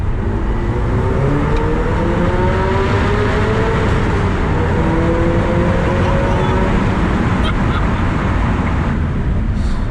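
A Subaru Legacy turbo car engine roars loudly and steadily as the vehicle accelerates hard through a tunnel, the revving tone climbing through the gears with heavy road noise underneath.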